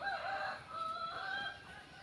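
A chicken crows and clucks in two short, fairly loud bursts, nearby and outdoors, with no talk over it.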